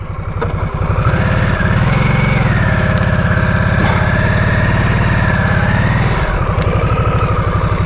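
Harley-Davidson Nightster motorcycle riding, a close, loud engine with a deep pulsing rumble that revs up after a second, holds steady, then eases off near the end.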